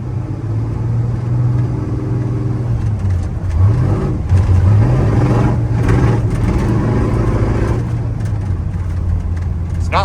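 A square body truck engine running on old fuel drives close by, its note rising and falling through gear changes with rough, uneven acceleration and a faint rattle.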